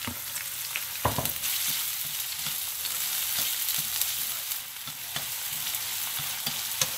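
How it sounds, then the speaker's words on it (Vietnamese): Minced shallots sizzle in hot lard with a close, steady crackle and occasional sharper pops. "Bây giờ mỡ nó nóng rồi các bạn cho hành băm nhỏ."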